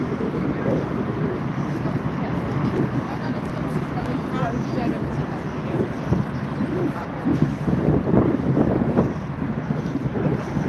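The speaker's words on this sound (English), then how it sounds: "the wind is too much, makes it feel like 8 or something" Strong wind buffets the microphone at Niagara Falls, a loud continuous rumble and roar with the distant falls blended in, while a person talks over it.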